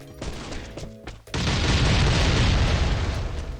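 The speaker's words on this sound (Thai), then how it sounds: "มาเดี๋ยวไปใช้ระเบิดกันครับ" In the video game Last Island of Survival, a heavy booming explosion bursts in after a moment of lighter game sounds as a house is blown up, then a loud sustained roar of rumbling debris continues to the end.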